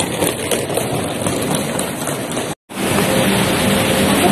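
Rain falling steadily at Donghu Park in Taipei, a dense, even hiss that fills the scene without pause apart from a brief cutout partway through.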